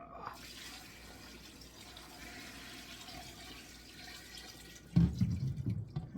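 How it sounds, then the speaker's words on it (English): Water pours into a stock pot of bones and herbs for a homemade chicken stock, a steady rushing stream that swells into a louder, heavier gush near the end, with no talking. "we are now going to add our water"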